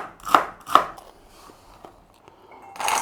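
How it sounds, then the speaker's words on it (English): Celery being chopped through with a knife on a board for chicken pot pie pasta: two sharp, close thuds in quick succession, a couple of faint taps, then a louder clattering scrape at the end. "we're just going to chop it through"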